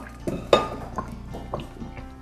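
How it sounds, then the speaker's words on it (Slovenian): Cooked broccoli is drained from a metal pot, heard as close, irregular clanks and clinks of the pot with soft splashing and trickling water between them. "Takole brokoli se nam je skuhal, zdaj ga bom odcedila"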